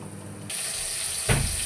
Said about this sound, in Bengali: চলো ভাজা হোক